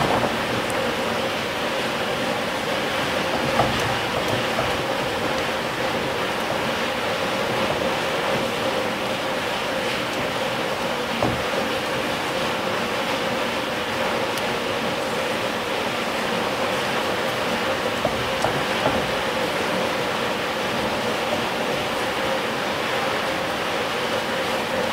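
A pot of water, sugar and powdered milk boiling for a mango cake and ice cream, a steady bubbling hiss that runs unbroken and fairly loud for the whole stretch, with no voices over it.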